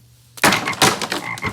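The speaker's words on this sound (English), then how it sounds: "God is gonna send frogs." A loud, close frog croak repeats in rough pulses, a few harsh rasping calls in quick succession with no talking.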